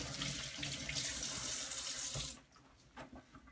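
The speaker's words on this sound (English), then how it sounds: "Quick rinse." A kitchen tap runs in a strong, steady splash as hands are rinsed beneath it, then shuts off abruptly, leaving a few faint drips and small knocks.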